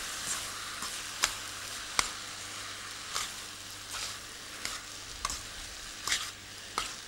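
Beef with vegetables and noodles stir-fries in a pan for a Thai beef noodle salad, a constant sizzle broken by repeated sharp scraping and tossing clanks at an uneven rhythm, close and alone.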